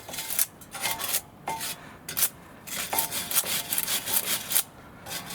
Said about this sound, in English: just have a brake dust clean up here. Clean it all up a little bit.